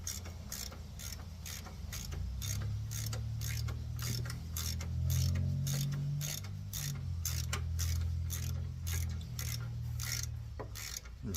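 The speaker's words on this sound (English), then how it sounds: "Get these bolts here out of the frame that hold these clamps down." Ratcheting and clicking from hand tools loosening the frame bolts that hold the clamps down on a 1980 Monte Carlo, a steady run of close, rapid clicks over a low mechanical hum with no talk.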